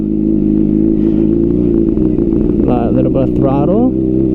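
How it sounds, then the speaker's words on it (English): A Honda CBR600RR sport motorcycle idling loudly in first gear, its steady engine note rising briefly as throttle is added, with a rider talking over it. "So I'm in first gear, right? I'll add a little bit of throttle"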